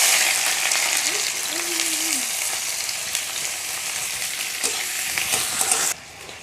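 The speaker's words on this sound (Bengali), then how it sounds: "তেলের মধ্যে দিয়ে দিচ্ছি পেঁয়াজ কুচি আর গোটা রসুন।" Chopped onion and whole garlic cloves hit hot oil in a wok for a country chicken curry, a loud continuous sizzle with a few stirring knocks, then the frying drops sharply quieter near the end; a brief faint voice sounds early.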